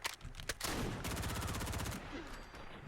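Rapid, loud bursts of Milano 821 submachine gun fire in Fallout 4, a dense run of closely spaced shots lasting about a second between short isolated shots.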